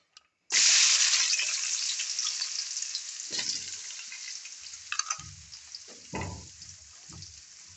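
Onions hit hot oil in a pan for a country chicken (natu kodi) curry with a sudden loud sizzle that fades into a steady frying hiss, broken by a few close stirring scrapes and clanks.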